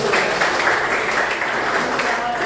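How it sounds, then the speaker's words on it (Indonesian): Classroom applause from students in an automotive vocational teacher-training session, a steady continuous wash of clapping at moderate loudness that holds evenly throughout with no clear speech over it. "tepuk tangan dulu"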